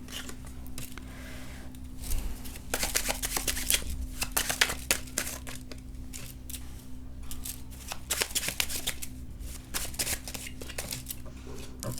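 Tarot cards being shuffled and drawn from a deck, a continuous papery riffling and slapping of card stock over a steady low electrical hum, fairly close, with no talk.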